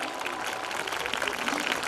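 Audience applause at a doctors' convocation ceremony, a dense steady patter of many hands clapping throughout, fairly loud and continuous.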